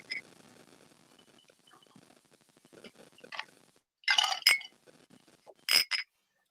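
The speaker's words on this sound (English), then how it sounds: "It's still clinking after this." Drinking glasses clink together in a toast during a podcast recording, with two bright, sharp chinks near the end following quieter background talk and movement.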